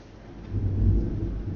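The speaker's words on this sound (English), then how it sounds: "That's some thunder you hear in the background" A low, rumbling roll of thunder during a rainstorm outside swells and fades, muffled and distant-sounding, with no voices over it.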